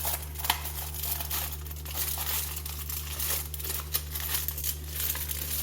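Tape crinkles and crackles in a steady run of close, dry rustles with a few sharper snaps, over a constant low hum, while it is pressed around a homemade RFID anti-theft box for a Toyota Aqua/Prius C smart key.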